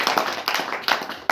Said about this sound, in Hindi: ताली बजा के प्रभु को